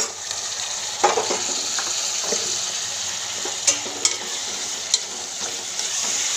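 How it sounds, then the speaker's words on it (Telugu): Chopped tomatoes fry in a hot pan with a steady sizzle, while a utensil stirs and scrapes against the metal in a few sharp clicks, close up and without talk. "ఇప్పుడు నేను కట్ చేసుకున్న టమాటాలు ఇందులో వేసేసుకుంటున్నాను।"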